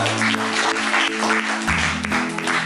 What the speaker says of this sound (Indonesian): kita berikan tepuk tangan juga.